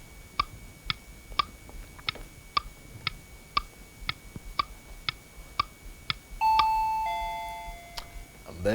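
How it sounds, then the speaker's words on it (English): A quiz show bell rings with a sustained tone after a steady series of about thirteen evenly spaced ticks from a countdown timer, clear and close with no talking. "And there goes the bell."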